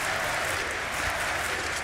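An esports arena crowd at a Counter-Strike tournament match applauds and cheers, a dense, loud, steady wash of clapping and voices.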